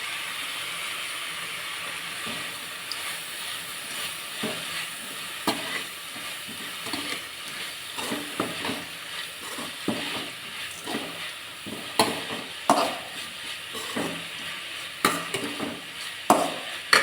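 Tomatoes go into a pan of softened onions for a potato masala and fry with a steady close sizzle and hiss, broken by occasional stirring scrapes and clinks, with no voices.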